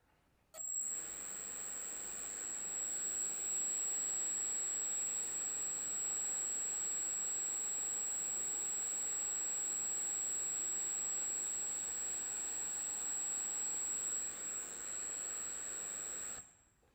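An electric ducted fan spins on a balancing rig with a correction weight fitted, giving a steady, even whine and airy hiss that holds for about sixteen seconds before stopping abruptly, with no talk over it.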